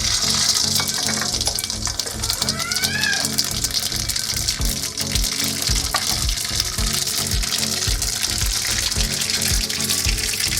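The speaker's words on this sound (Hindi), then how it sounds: "ऑयल गर्म हो गया है। हम इसमें राई और जीरा डालेंगे।" Mustard seeds and cumin crackle in hot oil in a kadhai, a dense steady sizzle with scattered sharp pops running throughout at close range, with no talking.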